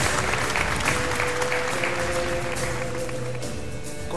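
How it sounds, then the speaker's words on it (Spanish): Dense, steady applause from a studio audience at a Paraguayan TV quiz show fills the whole stretch, loud and continuous with no break. "¡Un aplauso de Australia!"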